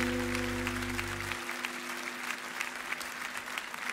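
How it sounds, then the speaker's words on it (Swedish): A crowd claps steadily for a singer at a 50th-anniversary jubilee show, dense applause at moderate loudness as a sustained musical chord cuts off early, leaving the clapping alone. "Ge honom en jättestor applåd."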